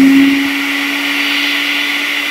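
A high-speed electric grinder machine running, a loud, steady motor whine with a strong constant hum that settles after a brief start and holds evenly throughout, alone without speech.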